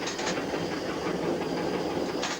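A steam locomotive runs with its reverser notched up to cut off steam earlier, giving a steady, close, loud chuffing roar with a faint rhythmic beat and no voices.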